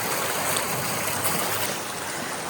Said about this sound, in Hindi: यहाँ से पानी की लहरें आ रही हैं और सीधे इसके अंदर जा रही हैं